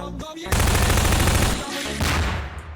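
Dense, continuous automatic gunfire from a Skibidi Toilet video game blasts loudly for about a second, dips briefly, then resumes as a steady rattling barrage to the end.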